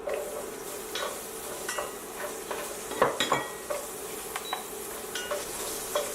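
Carrots sizzle and fry in a pan while being stirred for chicken caldereta, with soft scraping and frequent light clatters of a utensil against the pan, fairly quiet and close.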